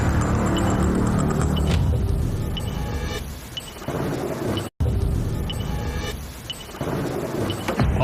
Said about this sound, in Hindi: ये बारिश इसे बहुत ड्रामेटिक बना रही है